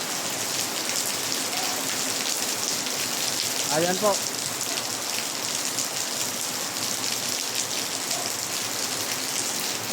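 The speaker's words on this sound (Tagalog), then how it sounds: "Grabe ang lakas ng ulan." Heavy rain pours steadily throughout, a dense hiss of drops on surfaces, with a brief voice speaking once in the middle.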